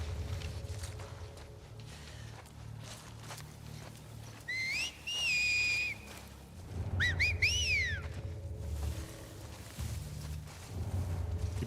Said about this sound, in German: Wer da so pfeift, das sind die Typen, die geben sie so Signal offensichtlich